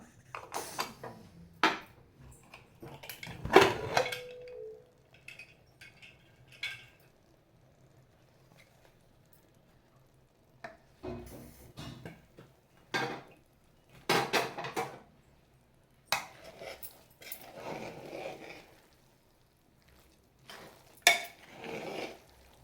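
A pot of vegetable biryani opened and served: scattered clinks and scrapes of a metal lid, ladle and utensils against the pot, in separate bursts with quiet gaps between.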